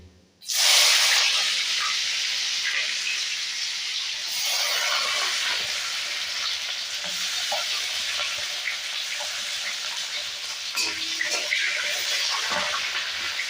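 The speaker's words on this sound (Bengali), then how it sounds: "তেজপাতা ফোড়ন একটু নাড়িয়ে নেব নাড়িয়ে নেওয়ার পর আমি দিয়ে দেবো এতে কুচনো পেঁয়াজগুলি" Chopped onions hitting hot oil tempered with bay leaf and dried chilli burst into a loud, steady sizzle that holds strong and hissing for the whole stretch, with a few faint utensil clicks and no speech.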